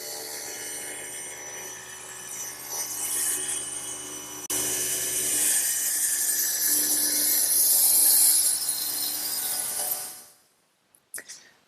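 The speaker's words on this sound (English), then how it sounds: "I'm going to raise the blade up slowly through the wood, and then I can push it through to my final mark" A table saw cuts through wood as the blade is raised slowly through the board and the piece is pushed through, producing a loud sustained whine that stops abruptly, followed by brief clunks.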